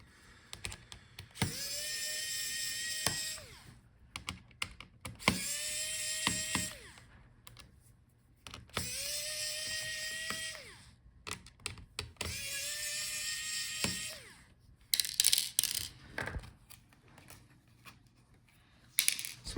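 A small electric screwdriver unscrews the screen hinges of an Asus VivoBook F1502ZA laptop, whirring in four steady bursts of a few seconds each, close and clear, with clicks and handling noises between them.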